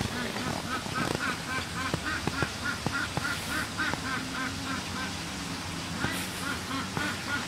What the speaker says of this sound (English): The duck is laughing at me right now.